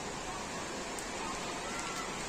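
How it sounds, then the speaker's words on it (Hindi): Sudden heavy rain falls in big, fat drops, a dense and steady hiss of downpour heard alone with no talk. "तो गाइस देखो अचानक से बारिश होने लगी है"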